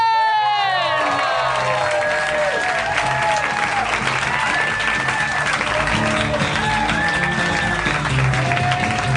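A live podcast audience applauds and cheers a host's entrance onstage, with loud sustained clapping, whoops and whistles mixed with crowd voices filling the room throughout.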